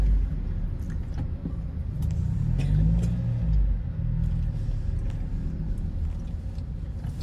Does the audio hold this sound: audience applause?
no